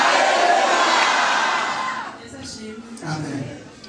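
A church congregation at a Sunday service claps and shouts hallelujah in a loud, dense burst of cheering that swells for about two seconds, then fades, leaving scattered voices and a few softer shouts.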